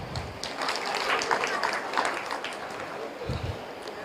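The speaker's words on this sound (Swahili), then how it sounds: "Makofi." Conference audience applause rises and falls, moderately loud and somewhat distant, with a brief separate burst near the end.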